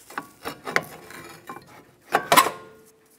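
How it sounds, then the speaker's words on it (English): Metal brake caliper set onto the front brake rotor of a 2013-2017 Honda Accord, making a few close scraping and rubbing knocks with a louder clattering cluster near the end, no talk. "Put the caliper onto the brake rotor."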